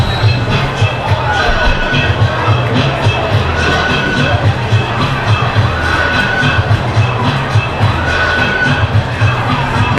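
A football stadium crowd at a high school game between Arrowhead and Muskego cheers and roars steadily, a dense, continuous wash of voices with scattered shouts, with no pauses.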